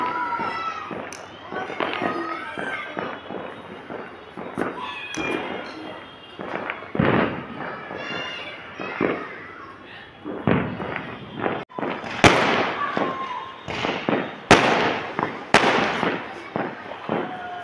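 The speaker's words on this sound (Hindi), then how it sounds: "चांद देखने के साथ ही लोगों ने यहाँ ये पटाखे छोड़ने शुरू कर दिए थे" Firecrackers and fireworks set off outdoors to celebrate the Eid moon sighting, with sharp bangs and crackling bursts scattered throughout, some loud and near, under a person talking and background voices.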